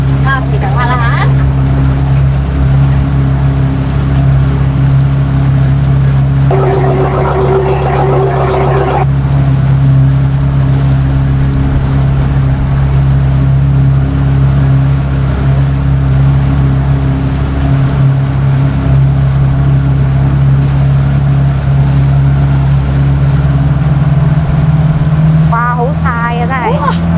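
A boat's engine drones steadily and loudly while riding across the water, a constant low hum throughout with a brief higher tonal whine partway through and faint voices at the start and end.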